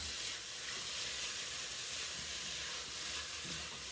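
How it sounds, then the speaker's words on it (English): Mushrooms sizzling and steaming as they cook down in a pan for pasta sauce, a dense, even hiss held close and loud throughout with no break and no voices. "we're gonna let the mushrooms cook down a little bit"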